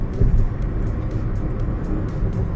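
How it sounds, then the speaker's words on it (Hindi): A car cruises on the road at a steady 90 km/h, a constant loud engine and road drone with tyre hiss, no talking. "90 पर करके अभी चलती रहेगी गाड़ी।"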